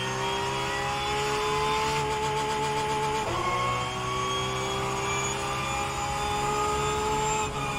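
A Porsche 992 race car with a flat-spotted tyre in rFactor 2 holds a loud, steady engine drone throughout, with a brief dip in pitch around the middle as it shifts, then climbs again.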